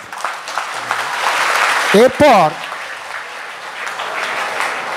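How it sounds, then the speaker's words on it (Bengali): An audience at a school function claps in a steady wash of applause, while a voice speaks over it through a microphone. "যে একবার হাততালি হয়ে যাক।"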